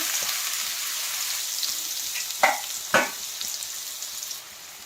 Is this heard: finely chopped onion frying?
yes